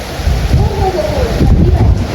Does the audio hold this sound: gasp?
no